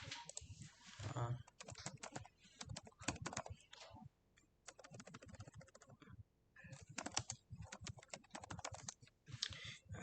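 Typing on a computer keyboard, quick irregular bursts of close, clicky keystrokes with brief pauses between words, fairly faint and with no talking.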